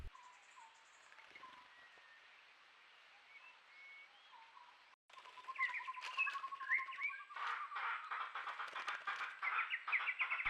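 Wild birds calling at a rocky pool, including black-crested bulbuls and laughing thrushes: faint scattered chirps at first, then a louder, busy chorus of overlapping whistles and chattering calls.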